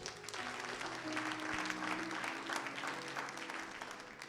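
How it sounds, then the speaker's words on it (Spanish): A church congregation applauds God together during a Spanish-language sermon, steady sustained clapping with crowd noise, moderately loud and continuous throughout, with a low hum underneath. "Y le da un aplauso a Dios."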